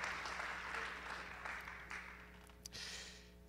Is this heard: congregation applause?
yes